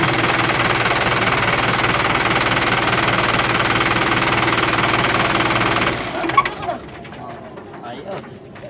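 A car engine that would not start runs after its battery terminal is replaced, a loud steady buzzing drone lasting about six seconds that then stops, followed by clatter and someone speaking.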